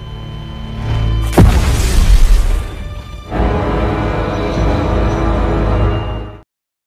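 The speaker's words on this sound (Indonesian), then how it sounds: "semua mesin komputer mereka mati dan langsung meledak" Computers explode with a sudden loud boom followed by a roaring rumble, then a sustained crackling, dense din before abruptly cutting to silence.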